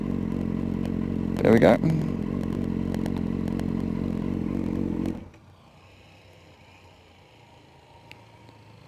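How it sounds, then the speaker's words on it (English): A motorcycle engine hums steadily while pulling over, with a quick rising rev burst as the rider clutches in and downshifts, then the engine sound drops away abruptly; a voice speaks briefly. "So clutch in and start downshifting."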